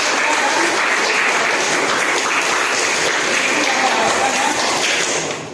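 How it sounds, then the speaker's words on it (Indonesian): A classroom of students breaks into loud, sustained applause during a teaching practice lesson, with dense, even clapping and some voices mixed in, fading at the very end. "Tepuk tangan lagi."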